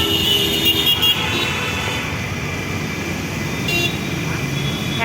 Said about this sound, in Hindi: रोड में बहुत ज़्यादा ट्रैफिक है।